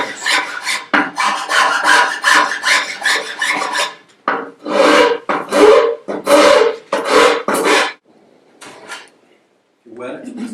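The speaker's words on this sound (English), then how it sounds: "If you wet it, it'll scrape a lot better." A hand scraper works the wooden surface of a Townsend document chest in rhythmic rasping strokes, a quick run of scrapes followed by slower, longer passes, close and clear with little else audible.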